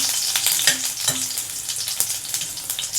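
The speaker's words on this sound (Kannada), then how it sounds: "Then I put my green chillies. Okay, let it just get fried a bit" Green chillies frying in hot oil for a South Indian zucchini dish, a loud, dense crackling sizzle with a few stirring scrapes, close up and alone.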